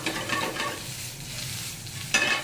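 Chorizo, chicken and rice frying together in a pan, a steady close sizzle with soft stirring scrapes and a sharper crackle near the end.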